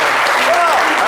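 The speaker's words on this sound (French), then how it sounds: "Allez, on applaudit bien fort." A short burst of loud, close applause from an audience at a live French-language show, with a voice briefly heard over the clapping.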